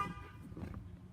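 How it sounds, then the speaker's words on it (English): A Ford Crown Victoria Police Interceptor sounds a single short honk of its car horn, close and moderately loud, heard alone for about a second. "Honk works."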